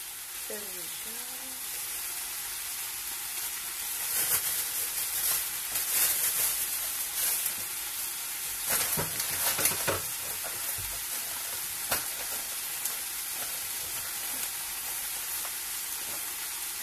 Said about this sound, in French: Ah, ça mijote tout doucement.